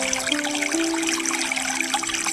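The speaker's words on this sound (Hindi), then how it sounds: "उठती हुई लहरों की आवाजें काफी मनमोहक है।" Sea waves rise and roll in toward the shore, a steady broadband wash of surf that stays loud and continuous throughout, with no voices.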